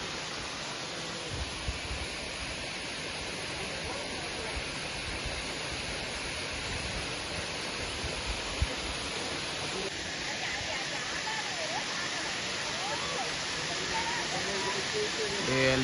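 A waterfall in Munnar gives a steady broadband rush that holds at an even level throughout, with people's voices faint beneath it.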